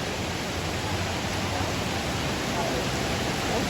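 A koi pond waterfall pours in a steady, close, broadband hiss of splashing water, unbroken and even throughout, with voices faint beneath it.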